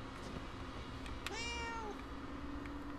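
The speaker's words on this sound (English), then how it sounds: "They just don't care that a cat is running around here." A single drawn-out cat meow in Murdered Soul Suspect, clear and fairly close over a steady low background hum, with no talk.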